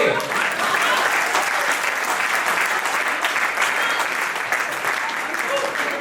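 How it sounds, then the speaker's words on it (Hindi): A crowd applauds at a Hindi kavi sammelan poetry gathering, a loud, continuous wash of many hands clapping that holds steady for the whole stretch without a break. "तालियां अभी भी कमजोर है आपकी"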